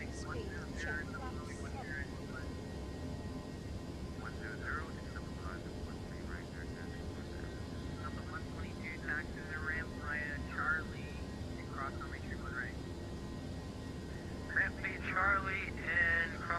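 Airbus A321 going around in the X-Plane 11 flight simulator, with a steady broadband jet engine roar throughout and faint radio-like voices and tones breaking through intermittently.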